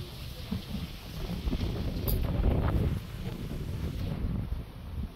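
Strong wind blows in a village outdoors, a loud continuous rumbling gust that swells midway and stays close, buffeting the microphone.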